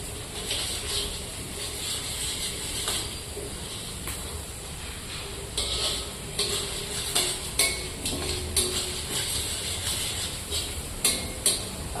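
Coconut rice ingredients fry in oil with steady stirring, a continuous hiss and sizzle under repeated scraping and clinking of a utensil against the pan, growing busier toward the end, with no talking.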